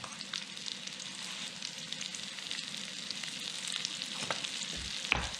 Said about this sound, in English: we're going to be caramelizing these onions